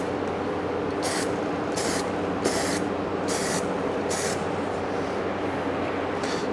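Silver paint sprayed onto a car wheel in about six short, evenly spaced bursts of close hissing spray, heard over a steady background rush.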